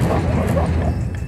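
Dogs bark and yelp loudly in the John Rambo video game, a dense, close burst of excited barking with a whimpering edge and no pauses, filling the whole short moment.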